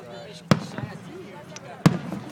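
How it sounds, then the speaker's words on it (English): Fourth of July fireworks bursting outdoors at night, two sharp booms about a second apart standing out over a low murmur of voices and background noise. "You can see the fireworks really well though."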